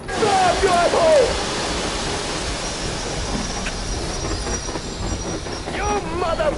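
A train rolls along in a PS4 video game, a continuous rumbling rail noise with squealing wheel tones at the start and end, loud and steady, while voices talk over it.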